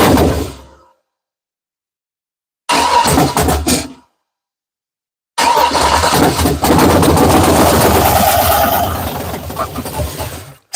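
A 6.0 engine swapped in place of a 5.3, running open headers, gives two short cranking bursts separated by silence, then catches and fires up into a loud, rough, close running roar that settles as it idles.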